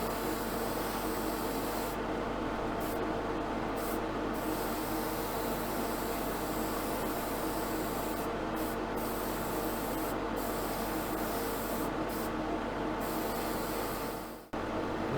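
Spray gun laying a heavier coat of paint onto a Jaguar E-Type, a steady continuous hiss that runs unbroken and close for about fourteen seconds before cutting off abruptly, with no talking over it.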